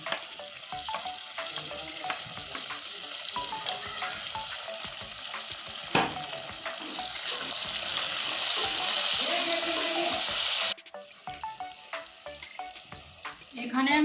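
Chopped tomato drops into a pan of fried onion and garlic, setting off a loud, steady frying sizzle with stirring scrapes and a sharp thump near the middle, then the hiss briefly eases before swelling again.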